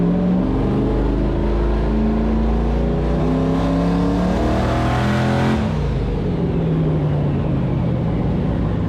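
A turbocharged LS-swapped Foxbody Mustang on a dyno roars loudly at full throttle, climbing steadily in pitch for about five seconds before the throttle lifts and it falls back to a lumpy idle.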